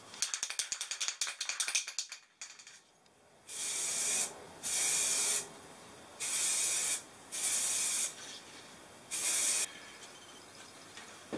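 Short bursts of spray primer coat sanded-off screw heads on a motorcycle front fender: five separate hissing sprays of about a second each, close and loud, following some earlier rattling handling noise.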